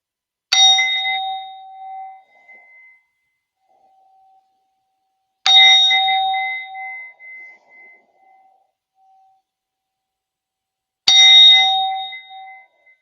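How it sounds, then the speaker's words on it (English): Three identical ringing chimes from a phone, each a bright metallic ding with a lingering tail, spaced about five seconds apart with silence between them. "I think that was my phone ringing."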